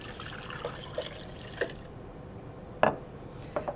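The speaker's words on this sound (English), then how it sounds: "in one of the large beakers, you are going to add the 500 milliliters of water" Water, 500 millilitres, poured into a large beaker during a DNA extraction lab: a faint, close trickling splash with a few small clinks and drips, no voices.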